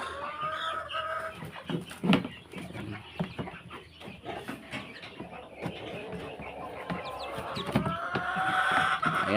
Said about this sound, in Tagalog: So ito naman guys yung aking mahiwagang mga pato